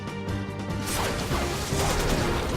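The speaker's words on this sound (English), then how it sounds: "Oh, Poison Sting?" A Poison Sting attack in the video game Pokemon XD: Gale of Darkness lands as a loud crashing, smashing hit, with layered impact noise and game music filling the whole short burst.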